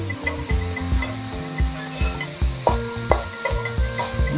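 Six large hand-chopped garlic cloves sizzle in a pan while a spoon stirs and scrapes the bottom in quick, repeated strokes, with light metallic clinks against the pan.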